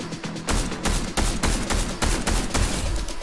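Cobra DMR rifle gunfire in the Fortnite video game rings out as loud, rapid shots of about ten evenly spaced cracks with no talking over them.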